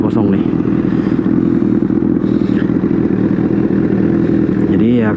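A Honda CBR1000RR in Red Bull livery holding a steady, loud engine drone, revving for a launch-control start, with a rising whine near the end; a person speaks over it.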